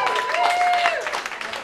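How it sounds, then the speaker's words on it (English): A comedy-night audience applauds the bartender behind the bar with a steady wash of clapping and cheering that holds for the full stretch, plus a few whistle-like tones and some voices in the crowd. "round of applause for Kara behind the bar"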